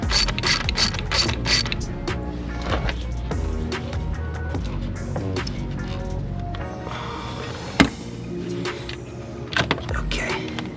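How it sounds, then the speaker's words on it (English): Hand ratchet loosening bolts to pull the TGV from a Subaru WRX engine, rapid rhythmic clicking in quick bursts with occasional metallic clanks, loud and close. "Let me go ahead and loosen up the other side a little more."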